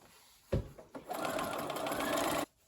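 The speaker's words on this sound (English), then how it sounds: "And I'll stitch." A sewing machine stitching quilt pieces starts with a couple of short bursts, then runs in a steady, fast mechanical whir for about a second and a half before stopping abruptly.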